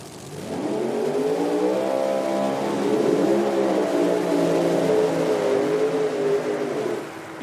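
Drag racing cars launch down the track at an IHRA Outlaw Nitro event, a loud sustained engine roar rising in pitch and holding for several seconds before easing off, with no talk.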